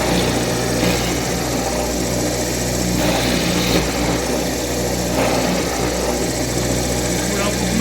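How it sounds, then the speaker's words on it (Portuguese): A power drill bores into solid wood for a door, a constant high-pitched motor whine with grinding bite that stays loud and steady throughout, with slight shifts as the bit cuts. "eu volto e furo no meio da parede"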